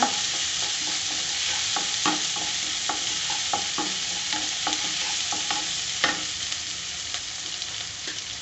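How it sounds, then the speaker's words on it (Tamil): A large chopped onion sautés in a pan while being stirred for a Tamil-style fried okra dish, giving a steady hiss of frying with repeated scraping clicks from the spatula throughout. No one speaks. "பெரிய வெங்காயம் போட்டுக்கோங்க அதையும் கொஞ்சம் வதக்குங்க"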